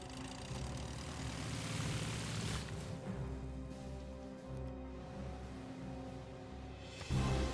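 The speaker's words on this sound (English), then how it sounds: "So many planes!" Aircraft engines drone steadily as many planes fly in the strategy game Civilization 6, a dense mid-level hum with propeller-like rumble that shifts slightly in pitch and surges near the end.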